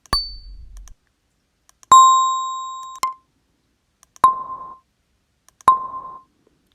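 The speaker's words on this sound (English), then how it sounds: "let's click on bells, and we can audition some of them." Bell samples auditioned one after another in Poly 2 software: five separate clear, ringing strikes about a second apart, each with a bright tone and a decaying tail, alone with no talk.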